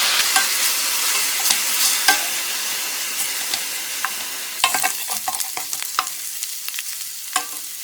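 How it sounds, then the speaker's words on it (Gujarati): Onions frying on medium heat in a pan for a ghee roast beef masala, with steady sizzling and repeated scraping stirs of a spatula, close and fairly loud, no talking. "મીડિયમ ગેસ ઉપર એને સતત ફેરવતા રહીએ. ઓનિયન ગોલ્ડન બ્રાઉન થાય ત્યાં સુધી આપણે એને શેકી લઈએ."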